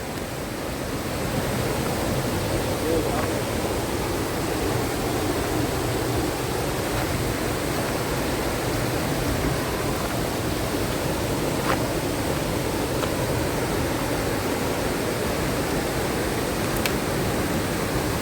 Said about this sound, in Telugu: ఆల్మోస్ట్ వాటర్ ఫాల్ దగ్గరికి అయితే వచ్చేసాము